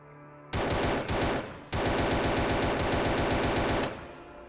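Rapid automatic gunfire shooting zombies in the mobile survival game Outbreak Dead City, loud close bursts with a brief pause, then a longer sustained burst that cuts off.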